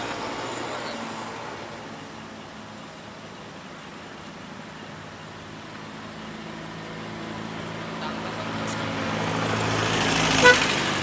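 Steady road traffic rumble at a bend with a single short truck horn toot near the end, loudest toward the close.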